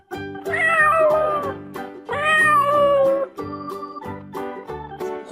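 A cat gives two long, drawn-out meows with a pause between them, loud and close, over a gentle looping music bed.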